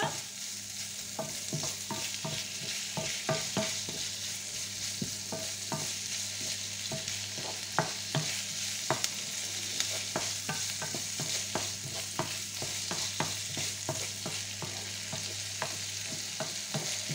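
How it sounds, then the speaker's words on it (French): Bacon lardons fry in a pan for a stuffed round courgette dish, giving a steady, close sizzle throughout with frequent sharp clicks and taps from stirring; no one speaks. "Je vais mettre mes lardons. Hop, j'en mets partout. Voilà. Et là, on va laisser cuire."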